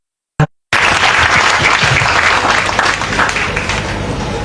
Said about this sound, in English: Shall we clap for that?